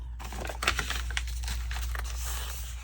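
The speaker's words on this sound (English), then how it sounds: "you want to bend your envelopes so that the flap is turned back like that" Paper envelope flaps being bent back by hand for a junk journal: close, crisp crinkling and creasing rustles in short bursts over a steady low hum.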